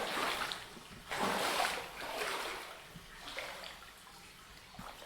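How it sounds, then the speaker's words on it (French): Water gurgling and splashing as it drains away into a hole in the floor of a cave with an underground river, Tham Lot Phraya Nakarat in Thailand; a soft, steady wash with swelling surges, fairly faint. "il y a un trou dans le sol dans lequel l'eau disparaît avec un bruit de glouglou, un peu comme s'il y avait un évier dans le sol"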